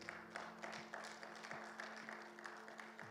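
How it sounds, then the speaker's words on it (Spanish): Applause from a church congregation during a Bible class, a steady crowd of clapping hands with a sustained tonal hum beneath, moderately faint and continuous for a few seconds. "Denle un fuerte aplauso al Señor"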